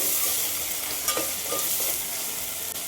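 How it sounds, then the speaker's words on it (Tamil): Tomatoes sautéing in a pan for thaalcha, a fairly quiet continuous sizzle with a few soft stirring knocks partway through. "தக்காளியை போட்டு நல்லா வதக்கிடுவோம்."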